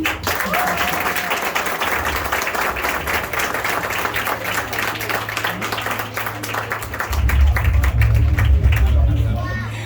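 Audience applause at a graduation ceremony, a full crowd clapping steadily with murmured voices mixed in and a low hum underneath that grows stronger toward the end.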